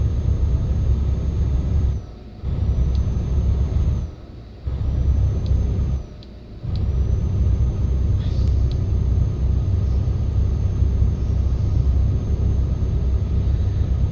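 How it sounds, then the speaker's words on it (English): A cargo truck's automatic retarder engages on the road, giving a continuous deep rumbling drone that briefly drops away three times before resuming, loud and steady inside the cab with no talking. "We're gonna turn on the automatic retarder."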